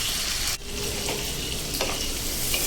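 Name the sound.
chopped tomato frying in oil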